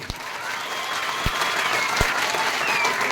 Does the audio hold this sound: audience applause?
yes